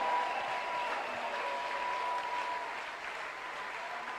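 A church congregation claps steadily and continuously at moderate volume, a dense wash of many hands with no pauses.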